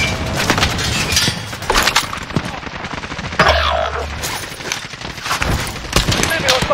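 Gunfire in Call of Duty Modern Warfare Warzone Payload mode: constant bursts of automatic fire and sharp shots with occasional booms, loud and busy, while radio-style voices talk over the battle.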